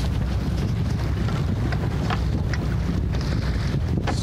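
Aboard a sailboat heading out toward the race starting line at a schooner race, a dense roar of wind buffets the microphone and water rushes past the hull, loud and continuous with no talking.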